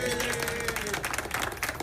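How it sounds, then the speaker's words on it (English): Studio audience applause at a Shark Tank India taping: a dense, steady wash of many hands clapping for just under two seconds, fairly loud throughout, with some voices mixed in. "he deserves a big round of applause"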